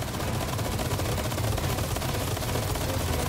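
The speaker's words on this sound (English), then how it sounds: "I'm assuming we need to use the minigun right here." A minigun in Resident Evil 4 Remake firing a continuous, loud, rapid stream of shots that runs without pause throughout.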